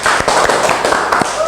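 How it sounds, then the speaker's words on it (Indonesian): Classroom applause from students during a microteaching lesson on the digestive system, a short burst of many hands clapping loudly and close, irregular and dense, with a voice underneath. "tepuk tangan dulu"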